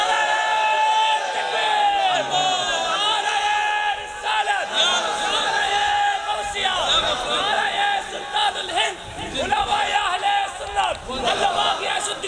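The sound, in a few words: crowd chanting a slogan at a religious sermon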